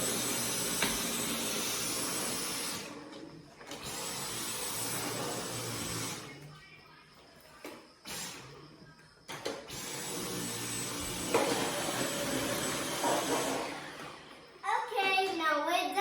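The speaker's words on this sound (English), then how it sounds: "you can see how fast I did with the Dyson vacuum" A Dyson vacuum cleaner runs over a living-room carpet with a steady whooshing roar that stops and restarts several times, while a voice speaks intermittently over and between the bursts.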